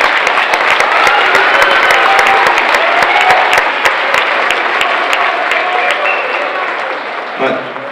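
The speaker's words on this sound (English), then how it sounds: "so please give yourselves a round of applause." A large audience at a band Christmas concert applauds loudly and steadily, a dense wash of clapping that fades slightly toward the end. A low voice or tone comes in at the very close.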